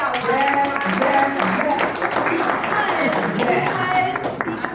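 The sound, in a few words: audience applause for Tara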